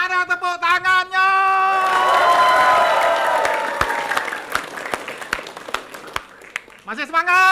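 A studio audience at a regional TV variety show in Palembang breaks into loud, sustained applause mixed with cheers and whoops for several seconds, then fades as a presenter's voice returns over the crowd.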